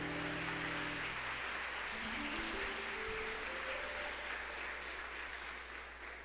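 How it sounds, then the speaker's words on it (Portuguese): A church congregation applauds in praise of Jesus, a dense, steady wash of clapping that holds for several seconds beneath a sustained organ or keyboard chord, easing off slightly toward the end. "Dá uma salva de palmas para Jesus."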